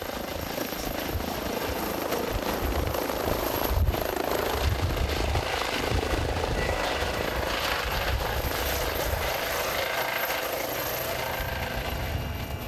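Christoph 16, the rescue helicopter based in Saarbrücken, flying with a steady, loud rotor and engine roar that fills the whole stretch without break, with no voices over it.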